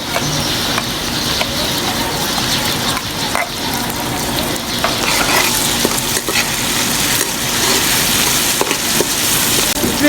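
Green chilies and tomatoes fry in a pan with a steady, close sizzle and crackle, joined by occasional stirring scrapes throughout, with no one speaking.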